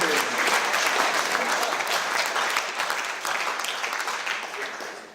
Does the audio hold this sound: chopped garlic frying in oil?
no